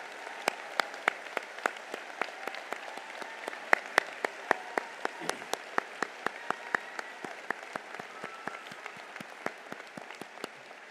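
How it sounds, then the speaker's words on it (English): An audience claps at a university summer commencement ceremony, a steady wash of applause with sharp individual claps standing out near and far throughout. "receive the applause of the audience as well"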